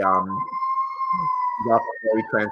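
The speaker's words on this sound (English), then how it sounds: "We got sirens all over here" Emergency vehicle sirens on a New York City street wail as a steady, sustained tone running under a conversation, with people talking over it close to the microphone.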